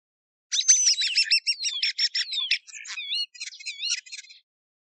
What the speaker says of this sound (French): L'étourneau.